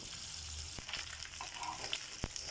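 Rohu fish pieces frying in a pan after being flipped, a steady hiss of hot oil running throughout with a couple of sharp pops and spits, close and even in level.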